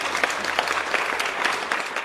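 An audience at the opening of a farming TV show claps in a dense, steady burst of applause that lasts about two seconds with no voices.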